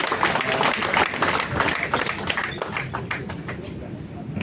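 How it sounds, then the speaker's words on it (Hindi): Loud, dense applause from an event audience welcoming the main speaker to the stage, broadband clapping sustained throughout with crowd murmur mixed in. "एक बार जोरदार तालियों से स्वागत"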